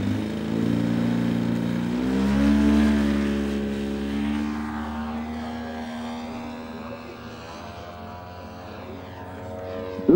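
A Raven light aircraft flying at a fly-in in Germany, its propeller engine droning loudly and steadily, the pitch sweeping upward as it passes close by.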